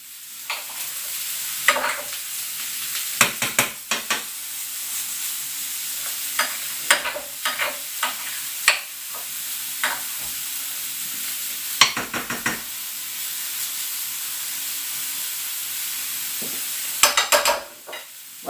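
Small fish balls frying in a pan, a steady sizzle broken by repeated bursts of stirring and scraping, close and fairly loud with no talking.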